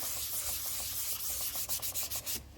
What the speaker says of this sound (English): I am going to wet sand it because why not? So I just dip it in, and you can do it all by hand. This is a wet dry sandpaper.